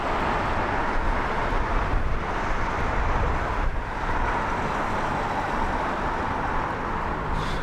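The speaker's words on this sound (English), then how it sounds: "This is American 106 in from JFK. It's a 777-300ER." A steady, broad roar of a Boeing 777-300ER airliner arriving at London Heathrow, loud and continuous, with wind buffeting blended into the rumble.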